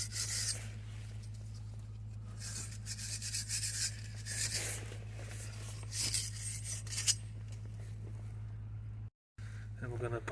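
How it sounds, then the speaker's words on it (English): Scrubbing around the brake hub of a Vauxhall Astra, repeated rasping rubbing strokes in bursts over a steady low hum, fairly faint, with a brief silent gap near the end. "Around the hub, we're going to clean it up."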